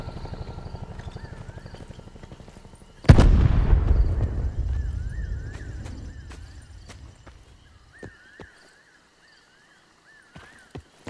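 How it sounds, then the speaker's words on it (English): A frag grenade blast in Call of Duty: Black Ops 4 infected mode, one loud booming explosion with a long rumbling decay, preceded by rhythmic background game sounds and followed by scattered faint clicks. "Throwing frag."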